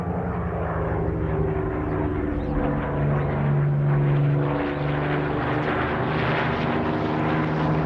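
Vintage Spitfire fighter plane flying aerobatics overhead in a bright sky, its propeller engine droning loud and steady throughout, swelling and shifting in pitch as it banks and passes.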